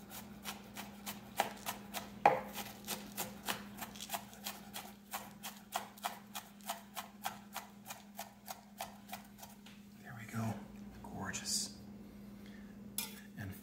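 A knife thinly slices green onions on a board in a quick, even run of crisp taps, close and fairly quiet, then stops and gives way to a few soft handling noises.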